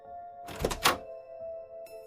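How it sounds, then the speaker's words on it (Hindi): A car bonnet is swung open at night as a sound effect, giving two quick dull thunks in succession over a steady low tonal drone, followed by a faint click. "फिर आर्यन ने गाड़ी के बोनट को खोला"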